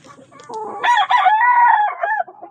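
Gamecocks crowing at close range in a small backyard rooster yard, a loud, strained crow rising and holding for about a second and a half, preceded by softer clucking and scuffling.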